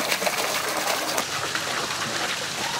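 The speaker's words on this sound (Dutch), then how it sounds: "Het is een fonteintje." Small fountain at a campsite splashing continuously, a steady bright hiss of falling water, close and even, with faint bird sounds in the background and no talk.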